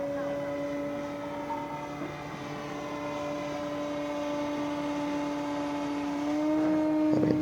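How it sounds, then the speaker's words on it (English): An E-flite Carbon-Z Cessna 150 RC airplane with a 2.1 m wingspan flies overhead, its electric motor giving a steady tonal drone at moderate distance that rises slightly near the end, with faint voices nearby. "Flies like a Cessna 150."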